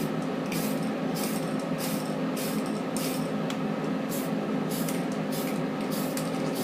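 A light coat of spray paint misted onto a plastic model, heard as a steady close hiss broken by a regular series of short, sharper spray bursts, with no talking.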